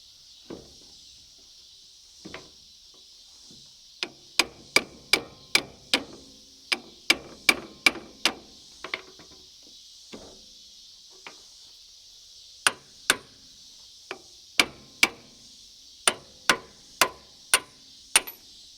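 A pin is tapped back into place on a Case 450 dozer hydraulic cylinder: a long series of sharp metallic knocks in an uneven rhythm, some close together and some with brief pauses, over a steady background hum.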